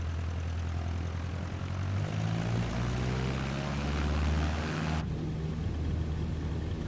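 A propeller airplane takes off, its engine a loud, constant droning roar with rising pitch, heard from inside the aircraft as it accelerates, with a steady wash of wind noise.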